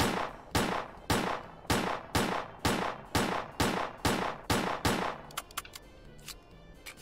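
A steady series of about ten loud, evenly spaced gunshots from a jamming gun in the video game S.T.A.L.K.E.R. Clear Sky, followed by a few quicker, fainter shots and clicks.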